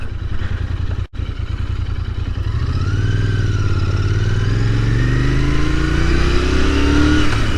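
A 2022 Royal Enfield Interceptor 650 engine revs and pulls strongly while riding, a loud steady drone rising in pitch as the bike accelerates after one brief dropout near the start.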